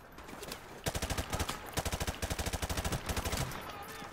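Rapid automatic gunfire in Call of Duty Modern Warfare 4 Remastered rattles off as a fast, evenly spaced burst of about twenty shots aimed at barrels, close and steady.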